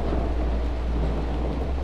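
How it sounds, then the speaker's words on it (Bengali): Heavy rain pours down with a deep, continuous thunder rumble while a boat drifts along a river, a dense, loud roar with no voices. "মেঘের ক্রমাগত গর্জন আর ঝমঝম বৃষ্টির মধ্যে নৌকাটি নিশ্চুপ চলতে থাকে মাঝ নদী ধরে"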